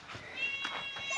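A pet cat meows several times in quick succession, close and moderately loud, with rising and falling tones against a light background hiss.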